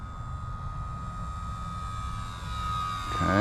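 A radio-controlled model airplane makes a landing approach, its electric motor giving a thin steady whine that swells toward the end, set over faint outdoor background noise.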